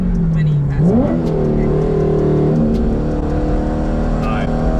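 A Corvette's engine revs and pulls hard, its pitch climbing and settling across a sustained loud drone, with voices talking over it inside the car.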